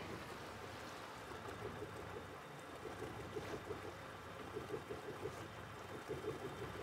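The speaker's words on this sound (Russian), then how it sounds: "Катер мощный до безобразия." Speedboat engine in Mafia 3 game, a steady low motor drone with water wash, continuous and moderately close with small rhythmic surges, no talk.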